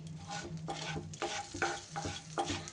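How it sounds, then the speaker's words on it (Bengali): Black mustard seeds sizzle in melted butter in a pan, heard as a soft frying hiss broken by about four rhythmic stirring scrapes, close and fairly quiet, with no voices. "মাখনটা এইভাবে মেল্ট হয়ে গেলে এইবার এর মধ্যে দিয়ে দিচ্ছি একটু হাফ চামচ কালো সর্ষে"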